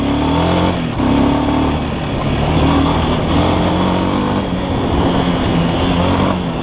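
A motorcycle engine, restarted with the electric start button, runs steadily at close range with a dense, continuous idle drone and slight revving swells, no talking over it.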